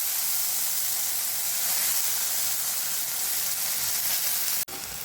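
Tomatoes dropped into a hot, oiled pan for a Bhogi vegetable dish give a loud, steady broadband sizzle that runs unbroken for about five seconds. The sizzle cuts off abruptly near the end.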